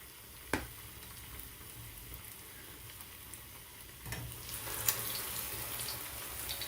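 Hush puppy batter fries in hot oil with a steady, soft sizzle throughout, broken by a couple of sharp clicks or taps, moderately quiet and without speech.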